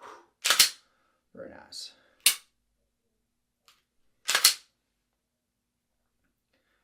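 Three sharp, loud pistol shots ring out a couple of seconds apart during a shooting skills test, each with a quick decay, and a voice speaks briefly between them.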